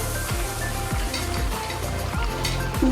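Curry sautéing in a pan, a steady close sizzle with soft scraping stirs repeating at a loose rhythm, moderately loud and without voices.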